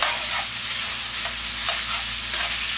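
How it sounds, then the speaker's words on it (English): Sausage browns in a pan for Cajun pork and sausage jambalaya, a constant loud sizzle with a few soft stirring scrapes, no talking. "Now I'm going to add the sausage"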